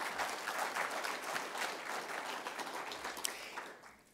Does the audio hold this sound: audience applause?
yes